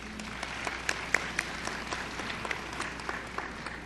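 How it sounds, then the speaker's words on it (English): Scattered applause from a small audience at a Holocaust remembrance observance, honoring a high school student poet; sparse, fairly quiet claps spread across a hall with a steady room murmur beneath. "If you could stand, I'll give you applause."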